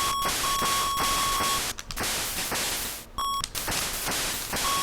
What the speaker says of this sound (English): that music really does not work well. The constant beeping, I know.